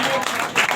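An audience claps at a Diwali solidarity gathering for Hindu employees held by trade unions, a brief burst of close, dense applause that briefly dips and swells.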